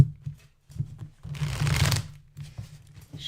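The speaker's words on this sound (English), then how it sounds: "Shuffling the cards for Rhonda" Tarot cards being shuffled by hand in a few close, papery riffling bursts, the longest and densest one in the middle, with brief pauses between them and no talking.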